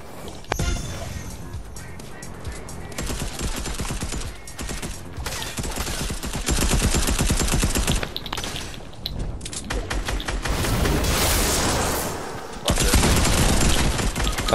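Rapid bursts of video game gunfire crackle loud and dense throughout, with volleys of automatic shots stacking into a near-continuous fusillade and brief lulls between.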